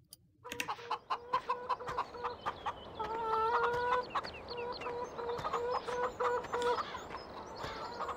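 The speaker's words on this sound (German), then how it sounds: "Nö, sind nicht meine Hühner." Chickens at a laying-hen barn cluck and call in a busy, overlapping chorus, with repeated sharp clucks and a few longer drawn-out cries, fairly close and loud throughout.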